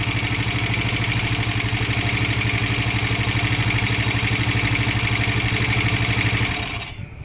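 A BS6 motor vehicle engine idles steadily and loudly with a constant low throb, then cuts off abruptly near the end.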